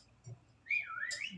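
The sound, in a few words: whistle call emote in video game Sky: Children of the Light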